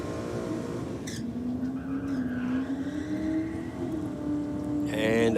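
Top gas drag racing car at a drag strip event, a loud steady engine drone with rising pitch and a sharper burst near the end, voices faintly underneath.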